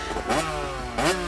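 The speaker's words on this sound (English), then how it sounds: "So the bike that was on fire went past Lumpy and then it caught him on fire" A burning motorcycle in a Happy Tree Friends cartoon roars past, its engine revving up and sweeping twice in quick succession, loud and close.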